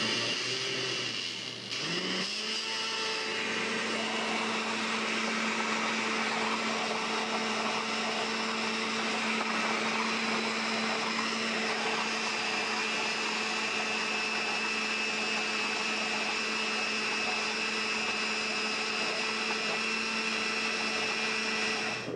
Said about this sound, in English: we're going to turn the blender back on and we're going to slowly add our champagne vinegar